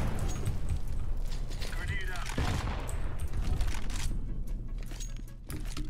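Gunfire in the video game CS:GO, a dense burst of rapid shots over steady game noise, with a player talking over it.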